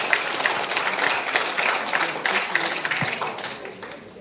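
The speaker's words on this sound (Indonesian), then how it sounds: "Boleh tepuk tangan yang meriah Bapak Ibu." A dense wash of audience applause fills a farewell event attended by the Indonesian vice president, steady and loud throughout before thinning slightly toward the end, with a murmur of voices mixed in.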